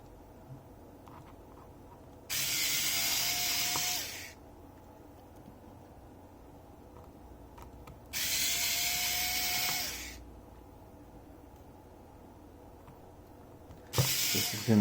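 Phillips screws being removed from the top of an iPhone 7 during a screen replacement, with two sustained bursts of hissy whirring from a powered driver and a third starting at the end, separated by quiet pauses.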